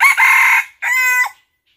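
Rooster crowing loudly and close, two strong harmonic crows in a row with a short gap between, no other sounds.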